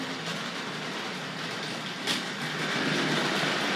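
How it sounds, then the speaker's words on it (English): Tri-ang and Hornby Dublo model railway coaches rattle and clatter steadily along a track, a continuous close-up clicking rumble with a brief louder knock midway. "Hear the nice rattly sound of those coaches."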